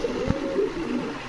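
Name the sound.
pigeons cooing at a pigeon market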